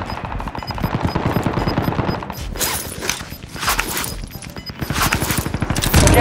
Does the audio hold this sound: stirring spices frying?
no